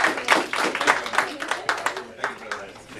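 A small audience at a real estate business talk gives sparse, uneven clapping, with distinct claps rising and fading close by over a few seconds.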